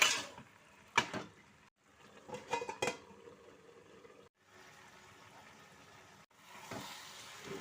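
Fried lentil dumplings (bori) cook in a pan dish under a lid, giving a soft sizzle broken by a few sharp clatters of utensils and the lid.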